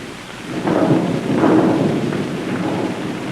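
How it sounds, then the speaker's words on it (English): Thunder rolls during a rainstorm, two deep swelling rumbles over steady rain hiss, close and loud. "Ah, thunder and lightning."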